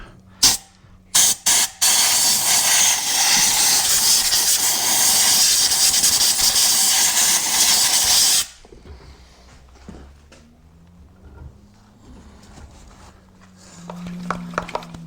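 Compressed air blasts through a 1977 Johnson 9.9 outboard in a loud, sustained hiss lasting about six seconds after a few short bursts, then cuts off to quieter handling clatter.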